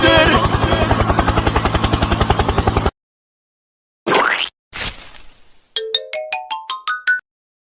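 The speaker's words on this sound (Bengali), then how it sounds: "helicopter helicopter" A helicopter sound effect: about three seconds of loud, rapidly pulsing rotor chop, then silence, a couple of whooshing bursts and a run of short rising electronic tones.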